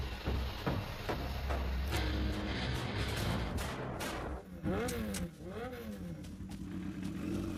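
A motorbike being ridden away by a thief, its engine revving and roaring close by with pitch sweeps as it accelerates, amid loud general commotion.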